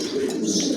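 A pair of Mille barred pigeons coo briefly at close range, a low soft throaty call standing alone over faint background noise.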